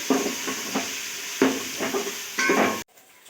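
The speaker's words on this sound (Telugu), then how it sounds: "కరివేపాకు రెండు రెమ్మలు వేసేసుకొని బాగా కలుపుకోవాలి" Coriander and curry leaves are stirred into a sizzling egg biryani masala in a pan, each scrape of the spoon setting off a louder burst of frying under a steady hiss, ending in sudden quiet.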